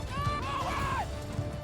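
A horse whinnies in Mount & Blade II: Bannerlord, one rising and falling neigh over the soft thud of hooves and battlefield bustle.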